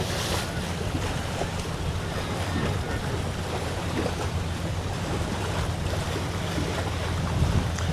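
Water rushes and churns steadily beneath a ferry crossing the Bosphorus in Istanbul, mixed with gusty wind buffeting the microphone; a constant, loud wash of surf-like noise with no speech.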